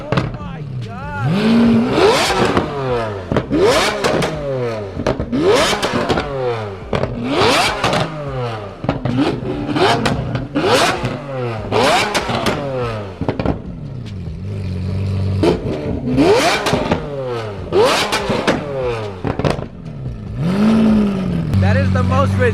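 A Lamborghini Aventador engine revs hard again and again, each loud, close rise in pitch snapping back down in a repeating cycle, while excited voices talk over the bursts.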